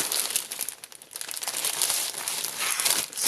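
Decorative papers for a concertina card are handled and crinkled close by, giving a run of crisp rustles and crackles that come in uneven bursts, with no speech.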